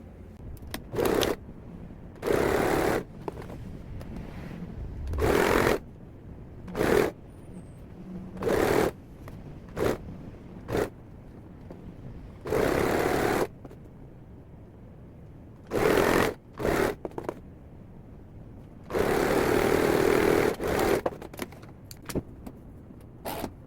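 A sewing machine stitches the side seam of elastic-waist shorts at about a 1 cm allowance. It runs in short, loud bursts of whirring, around eight runs separated by quiet pauses, with no voices.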